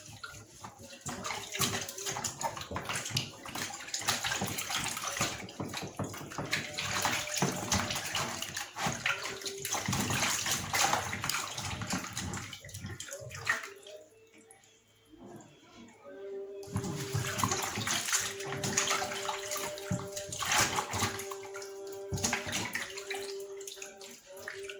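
Tap water runs into a bowl while raw chicken is being washed, a steady splashing stream. The flow cuts out for a few seconds in the middle and then resumes.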